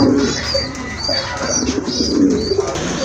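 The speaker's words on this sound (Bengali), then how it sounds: "এক জোড়া ইন্ডিয়ান বোম্বাই কবুতর, ব্ল্যাক কালার ভিতরে মার্শাল্লাহ হিউজ সাইজের কবুতর।" A pair of large black Indian Bombay pigeons coo close by in low repeated phrases, loud and clear with no talking.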